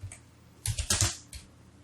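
Someone types on a computer keyboard while editing a DaVinci Resolve slideshow template. A short burst of close, crisp key clicks comes in quick uneven taps after a brief quiet start, with no voices.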